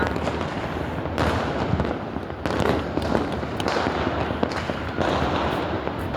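Dense New Year fireworks crackle and pop continuously, with crackling bursts swelling in waves, loud and close with a wash of overlapping distant bangs.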